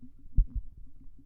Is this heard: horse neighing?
no